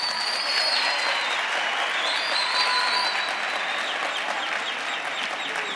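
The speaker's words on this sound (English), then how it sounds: "please clap your hands for being as peaceful as you have been up until this point" Students at a university chancellor's installation ceremony applaud as a steady, dense wash of hand clapping that holds at an even loudness throughout, with a few faint high whistles riding over the crowd.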